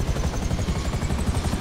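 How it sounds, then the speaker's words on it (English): A Savage armored attack helicopter in GTA 5 Online, rotor thumping in a rapid steady rhythm, loud and close, alone without talk. "It's supposed to be an armored attack helicopter."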